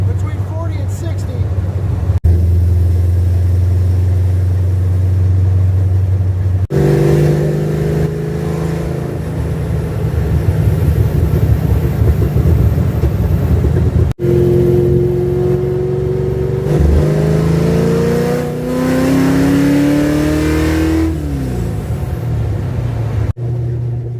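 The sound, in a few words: old car engine driving and accelerating on first drive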